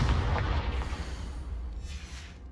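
A Confringo blasting spell from the game Hogwarts Legacy goes off in a cellar, a deep rumbling boom that fades away over a couple of seconds.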